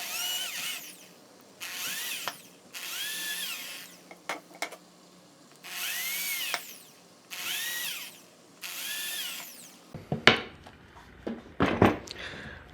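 Power drill boring holes in scrap wood for a small wooden stool: six whining bursts of about a second each, spaced evenly and close, then a clatter of handling and knocks as the piece is moved.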